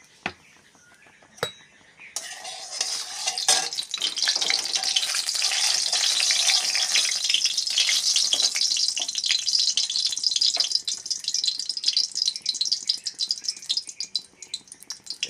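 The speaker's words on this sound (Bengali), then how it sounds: "তেল গরম হয়ে গেছে, শুকনো লঙ্কা দিলাম, তেজপাতা, সাদা জিরে দিয়ে" Dried red chillies, bay leaf and white cumin seeds hit hot oil in a wok for Bengali dal curry: a few clinks, then a sudden loud crackling sizzle that spits and pops steadily before easing off.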